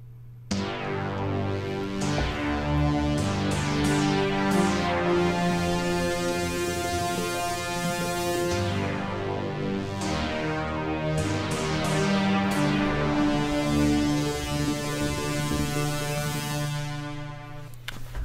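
Green Lantern theme from a sci-fi orchestral score, carried by synthesizers: sustained swelling chords with recurring bright accents, moderately loud and continuous throughout.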